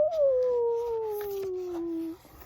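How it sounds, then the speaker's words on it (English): A lone animal howls at the moon in one long, loud, sustained wail that slowly slides downward in pitch and then cuts off, with no voices alongside. "they howled and howled and howled at the big blue thing"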